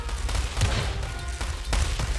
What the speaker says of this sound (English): I've got my Katyushas firing in, see explosions.